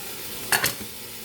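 Food being sautéed and stirred in a pan while cooking chicken: a quiet sizzling hiss with two brief scraping stirs close by.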